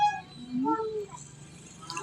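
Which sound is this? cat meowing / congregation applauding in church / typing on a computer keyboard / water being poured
cat meowing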